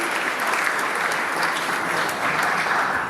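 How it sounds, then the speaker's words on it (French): A congregation applauds during a First Communion Mass in a church, a dense, even roar of many clapping hands that stays steady and full throughout, with no talking over it. "Est-ce qu'on peut l'applaudir, s'il vous plaît?"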